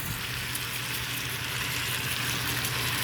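A breakfast dish of sautéed onion simmers gently over low heat in a covered pan, giving a steady, soft sizzle and bubbling that holds even from start to finish with no talking.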